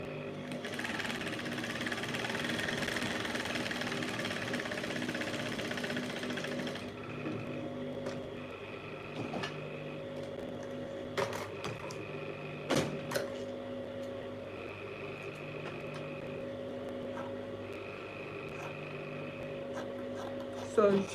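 Sewing machine joining fabric pieces for a facing, a steady mechanical whirr for the first seven seconds, then a quieter hum with intermittent short mechanical ticks and clicks.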